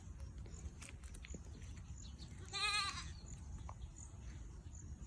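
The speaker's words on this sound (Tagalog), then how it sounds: "Ito naman si Mami Goat." A single mother goat bleat rings out clearly midway, a short wavering call over a faint low rumble and scattered small noises.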